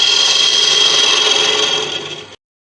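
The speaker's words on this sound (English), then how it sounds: "Now we're just going to hollow this out." Tigerwood box being hollowed on a wood lathe, a steady close scraping hiss of the cutting tool that fades slightly before stopping abruptly, with no talking.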